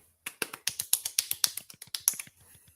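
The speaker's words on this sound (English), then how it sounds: "golf clap?" A slow, quiet golf clap from a few people, about fifteen separate soft claps in a loose rhythm that fade out toward the end, heard alone with no talking.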